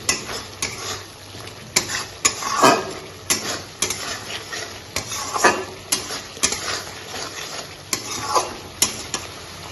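Spice paste for a boal fish head curry sizzles and fries in a pan, with repeated stirring strokes and sharp scrapes of a spatula or spoon against the metal, close and steady across the whole stretch.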